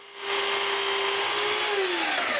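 A power saw spins up and cuts a wooden door rail to length, giving a loud, steady whine after a brief start and a slight drop in pitch as it cuts.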